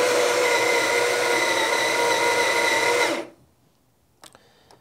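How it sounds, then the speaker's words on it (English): A Baratza Sette coffee grinder grinds espresso beans for about three seconds, a loud steady whir that cuts off abruptly, leaving near silence broken by a couple of faint clicks. "I'm doing a 4-second grind."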